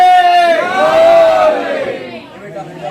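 A large crowd at a religious celebration gathering shouts a chanted slogan response in unison. The voices are loud and close, with harmonic tones swelling and then fading into a murmur.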